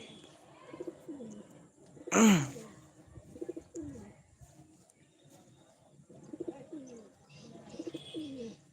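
Soft pigeon coos repeat in short rounded phrases, with a brief loud flutter or bump partway through and a quiet background.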